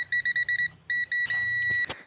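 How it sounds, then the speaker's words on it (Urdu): A continuity tester beeping while probing the DC side of a 0-9 V 500 mA charging transformer from an emergency light torch: a string of short, loud, even beeps, then a longer steady tone cut by clicks. "ابھی آپ کو ڈی سی والی سائڈ سے اس کی بیپ کی آواز آ رہی ہوگی۔"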